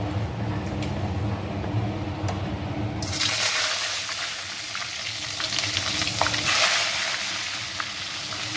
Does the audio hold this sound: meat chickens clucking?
no